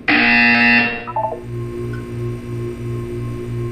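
In the game Portal 2, a loud electronic buzzer blares for about a second, then gives way to a softer pulsing tone and a steady hum that repeats rhythmically.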